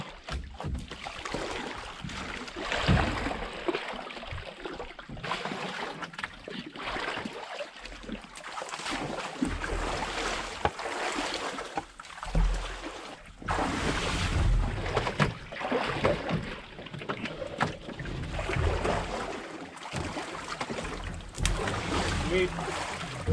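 Canoe paddling on a lake in the Quetico wilderness, with water splashing and dripping from steady paddle strokes close by, mixed with wind and people talking over it.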